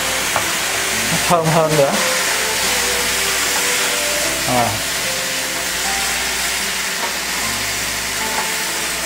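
White wine goes into a loudly sizzling tofu stir-fry, setting off a steady frying hiss with a few sharper bursts and scrapes early on as a person speaks briefly over it.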